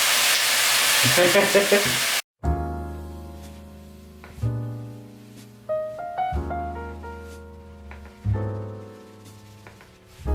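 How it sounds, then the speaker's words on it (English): Onions sizzle in hot olive and sesame oil with a loud hiss at first, then a quieter steady frying broken by repeated scraping and clanking of a utensil stirring in the pan. "you start with the onions after you've heated up the oil"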